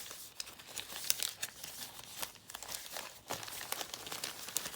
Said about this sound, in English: Here, I'm gonna stick her picture in with Alan. You two behave in the envelope here.